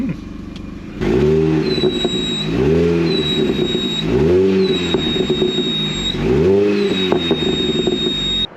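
A loud, raspy Mini engine with an aftermarket exhaust revs repeatedly in rhythmic bursts, each climbing and dropping back, close by with a sharp, rough exhaust tone.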